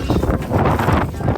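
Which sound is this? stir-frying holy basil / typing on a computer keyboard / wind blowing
wind blowing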